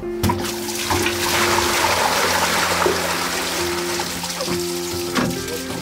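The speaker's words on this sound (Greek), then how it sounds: "αφού ανάψει η οθόνη πατάμε άλλη μια φορά και ξεκινάει ο αυτοκαθαρισμός." Running water from a water filter's self-cleaning flush, a steady rushing stream with a faint mechanical hum underneath, continuous and fairly close, with no speech over it.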